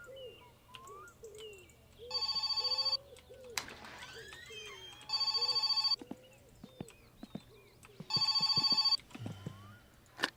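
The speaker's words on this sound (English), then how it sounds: "I have a phone call" A telephone ringing in My Summer Car: three loud bursts of electronic trilling ring, evenly spaced, over a constant outdoor ambience with bird calls and scattered clicks and knocks.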